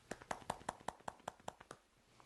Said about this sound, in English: I will show you the sound of one hand clapping.